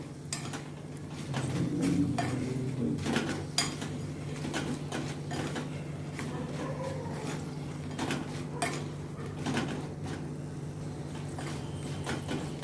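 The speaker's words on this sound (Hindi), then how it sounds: "इन मसालों को डाल के अच्छी तरह से मैं मिक्स करती हूँ।" Spice powders being mixed into potatoes in a pan, with quiet repeated scrapes and clinks of a spoon against the metal over a low background hum, close and soft.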